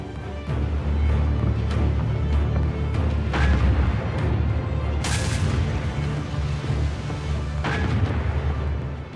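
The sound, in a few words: naval gunfire from Hood and Prince of Wales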